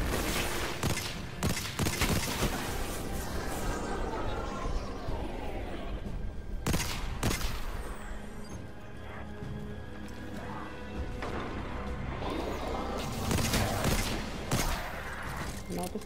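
Repeated gunfire bursts from a weapon in Destiny, firing in irregular volleys with brief gaps throughout, under and between a player talking over the action.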